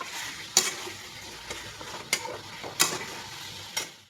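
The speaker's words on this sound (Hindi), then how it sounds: "टिके मिक्स कर दऊ आउ पानी दे दमा" Fish curry being stirred in a frying pan: a few sharp scraping clacks of a utensil against the pan at irregular intervals over a low steady sizzle, close by, with no talking.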